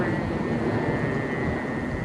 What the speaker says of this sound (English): I'm not jealous of the plane every 2 minutes